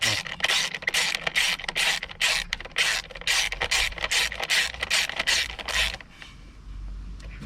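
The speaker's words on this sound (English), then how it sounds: "And then just do up that 10mm bolt securing the coil up." A ratchet tightens the 10mm bolt holding the ignition coil on a Peugeot 107 in a rapid run of close, loud clicking strokes, then stops and leaves quiet background.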